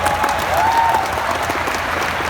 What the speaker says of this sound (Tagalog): Aanim lang yung pumalakpak.